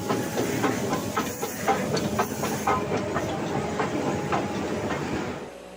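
A new Nilgiri Mountain Railway diesel locomotive, converted from furnace oil, runs on its trial from Mettupalayam to Coonoor with steady rumbling, hissing and rhythmic clickety-clack wheel beats, fairly near and moderately loud.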